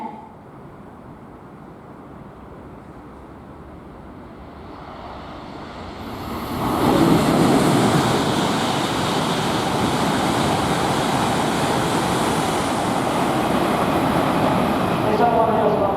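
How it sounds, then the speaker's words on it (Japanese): Tohoku Shinkansen train passing through Furukawa Station in summer, a quiet platform ambience swelling at about six seconds into a loud, sustained broadband rush of the train roaring by, with a faint announcement voice at the start. "まもなく下り電車が通過します"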